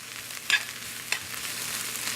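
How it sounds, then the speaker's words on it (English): Mushrooms and vegetables sautéing in a pan, a steady soft sizzle with a couple of sharper scraping stirs near the start. "So we're just going to saute that up nicely."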